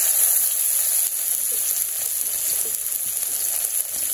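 Onion, green chili and garlic frying in a pan, a steady bright hiss and sizzle with soft popping throughout, close and continuous.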